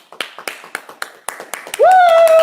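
Group of students clapping hands in unison during an adult martial arts class, a steady series of sharp claps about every quarter second, then a loud sustained whistle-like tone takes over near the end.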